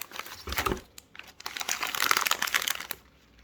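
A packet of smoky bacon flavoured crisps crinkles and rustles in close, busy bursts that carry on for about three seconds before stopping.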